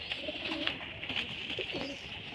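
A pair of Lotan pigeons coo in a steady, rolling series of low throaty calls, close and fairly clear over a hissy room background.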